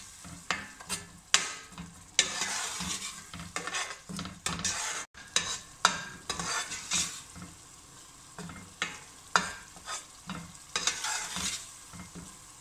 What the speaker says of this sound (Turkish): Yemek kaşığı su ekleyin ve 2 dakika kavuralım.